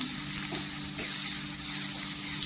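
Ginger-garlic paste fries in hot oil for a peas-and-potato bhaji, giving a steady, close, soft hissing sizzle without a break.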